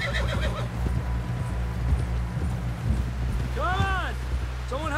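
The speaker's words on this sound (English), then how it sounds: "Someone help John down off this horse" Horses in Red Dead Redemption 2 gallop with steady clip-clopping hooves over wind noise, then a loud neigh and a second whinny cut in near the end while a character talks over the ride.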